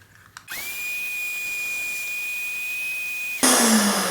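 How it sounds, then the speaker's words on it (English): A vacuum whirs on with a steady high-pitched whine for a few seconds, then a louder rushing roar kicks in at the end. "Let me turn on the vacuum."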